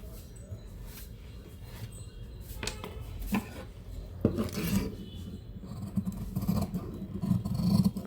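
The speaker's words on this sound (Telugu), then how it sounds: "ఇప్పుడు హ్యాండ్ కట్ చేసుకున్నాను." Scissors cutting blouse fabric for a sleeve by hand, producing soft rasping, rubbing snips close by, irregular and fairly quiet, growing a little louder toward the end with no talking.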